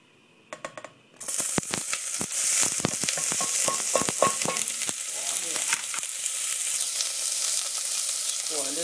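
Onions are tipped into very hot oil in a pot for lentil soup, bursting into loud, crackling sizzle after a few light clinks, with sputtering pops that settle into a steady frying hiss.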